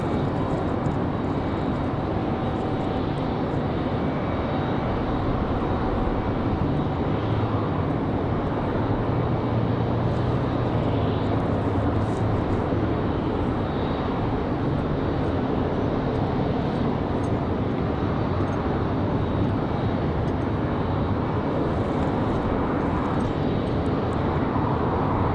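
A United Boeing 737 airliner at Raleigh-Durham airport on a windy day, a steady broad jet-engine roar that holds evenly and loudly throughout with no clear voices.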